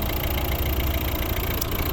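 A 2011 Volvo V60 with a 1.6-litre Peugeot-built diesel engine idling, a steady close rumble with a faint rhythmic diesel clatter and no voices.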